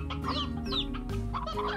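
A hen in the game Slime Rancher gives a close burst of choppy clucks and sharp rising squawks, several calls in quick irregular succession over a low constant game hum.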